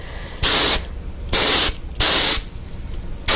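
Airbrush spraying paint onto a baby bull yellow perch fishing bait at lowered pressure, in four sharp bursts of hiss, each roughly a third of a second long, with quiet gaps between them.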